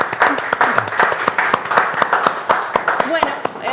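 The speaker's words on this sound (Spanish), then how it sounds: "este aplauso es para vos." A small audience claps for an interviewee at the end of a talk, with distinct, close handclaps in a lively, uneven patter and people talking over them.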